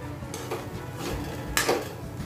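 Tomato rice with fresh coriander is stirred in a pan, with a few faint scrapes and soft knocks of a spoon against the pan over a quiet background.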